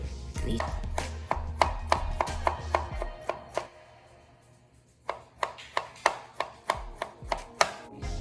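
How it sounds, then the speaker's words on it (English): A knife chopping open fruit such as kiwi on a cutting board, a steady run of sharp, evenly spaced thuds, then a short pause before another rhythmic series of chops, close and clear. "Go ahead and cut these fruits."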